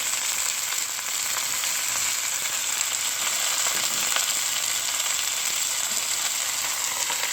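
Lamb meat, about 1.5 pounds, frying in a pot for goat biryani gives a steady, close hiss of sizzling fat with faint crackles and occasional stirring clinks throughout, no voices.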